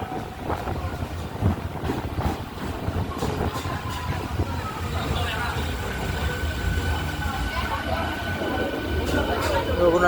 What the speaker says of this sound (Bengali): রঘুনাথ বাড়ি থেকে আমাদের ট্রেন ছেড়ে দিল